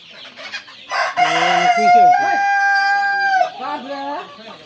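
Tiger breed chickens on a farm in Bakshiganj, Jamalpur: a rooster gives one loud, drawn-out crow close by, framed by short clucks from the hens.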